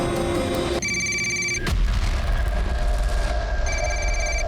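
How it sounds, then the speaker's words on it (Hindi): A telephone rings with a bright electronic trill, interrupted by a brief thud, then the ringing resumes over a low background rumble. "फोन उठाओ, फोन उठाओ, फोन उठाओ,"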